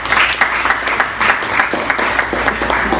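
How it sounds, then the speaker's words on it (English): An audience at a business panel event gives the guests a round of applause, dense rhythmic clapping close and fairly loud throughout, with faint crowd murmur beneath. "let's give our guests a round of applause for attending tonight"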